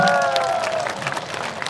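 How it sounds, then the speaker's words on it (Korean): Concert audience applauding at an outdoor celebration performance in Gyeongju, a dense wash of clapping with some crowd noise that fades slightly over its short run. "오늘 박수 한번 부탁드리겠습니다"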